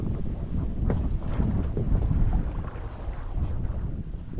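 Sailboat under sail on the Baltic with a beam wind, steady rushing wind buffeting the microphone over water and hull noise, continuous and fairly loud, no talk.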